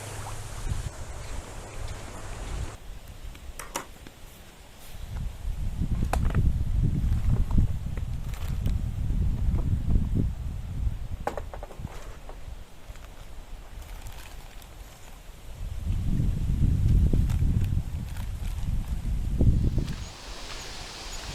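Wind gusts roar in two long swells over a constant outdoor background on a wild lakeshore, rising and easing away, with scattered rustles and knocks in between.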